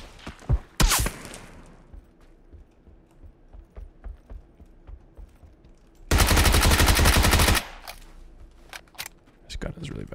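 Gunfire in the PUBG battle royale game, with a short burst early and then a sustained loud automatic stream lasting over a second, mixed with scattered clicks and footsteps; a player speaks in between.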